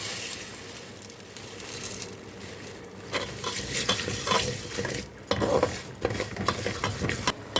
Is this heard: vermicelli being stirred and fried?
yes